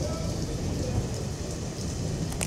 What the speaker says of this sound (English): That's the one problem with this island is you get soaked if you get caught in the rain.